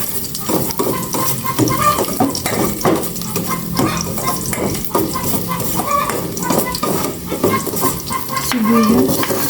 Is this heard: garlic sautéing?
yes